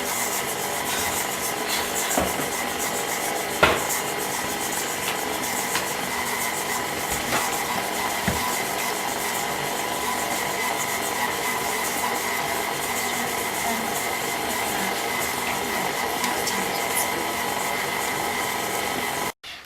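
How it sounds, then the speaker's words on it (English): An electric mixer creams butter and sugar on low speed, a steady close whirring hum with faint scraping and a couple of soft knocks, running nearly twenty seconds before cutting off. "mix them together until it's creamy. We will mix on low speed for a couple of minutes,"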